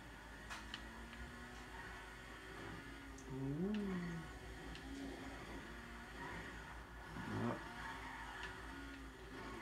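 Car engine in GTA 5 Online, driven in game, a steady low motor hum with two brief rising revs, faint and under background noise.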